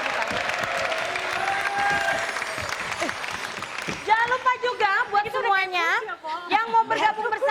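A studio audience at an Indonesian television talk show applauds the guest stars, loud sustained clapping for about four seconds, then a host's voice takes over as the applause fades under the talk.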